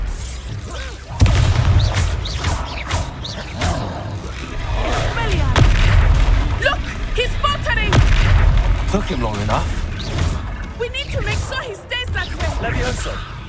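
Disarming spell cast in combat in the video game Hogwarts Legacy, heard as loud repeated magical blasts and booms within a busy battle soundscape, with a voice talking over it.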